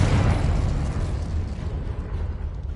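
The Confringo spell explodes in Hogwarts Legacy with a loud, rumbling blast that fades slowly into a sustained roaring decay across the clip.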